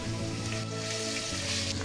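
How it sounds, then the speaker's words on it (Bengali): Ginger-garlic paste sizzling in hot oil while cooking chicken biryani, a steady close crackle and hiss with a low rumble underneath, no talking. "এখন আমি আদা রসুন পেস্ট দিব,"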